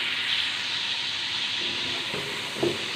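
Chicken sizzles and fries in a pan while a spoon stirs it, a steady close hiss with a faint scrape or clink near the end, no voices.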